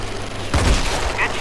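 A sniper rifle fires in the mobile shooter Sniper Fury: one sudden heavy boom with a rumbling low-end tail cuts through a steady game soundtrack, loud and close.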